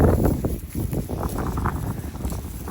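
Wind blows outdoors in rough, gusty rumbles buffeting the microphone, with low-frequency roar and scattered rustling throughout.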